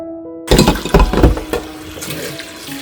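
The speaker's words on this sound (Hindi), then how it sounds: "चने मेरे अच्छे से भीग गए हैं, इसका पानी फेंक दूंगी" Soaked chickpeas' water splashes and pours out of a container, a loud close burst of gushing and sloshing that tapers into a softer trickle.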